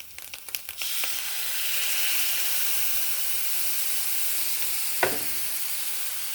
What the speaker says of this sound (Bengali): এবার পেঁয়াজটা ভাজা হয়ে গেছে এবার এই যে তেঁতুলের কাঁচটা দিয়ে দিচ্ছি